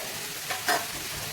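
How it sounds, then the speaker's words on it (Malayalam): Onion sautéing in a pan with crushed ginger, garlic and green chili, a soft steady sizzle with two brief stirring scrapes, close and fairly quiet, no voices. "ഇത് നന്നായി പച്ചമണം പോകുന്നത് വരെ നന്നായിട്ടൊന്ന് വഴറ്റിയെടുക്കാം"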